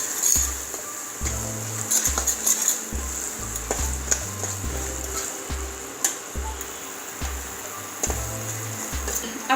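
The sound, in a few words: cumin coriander spice masala frying in oil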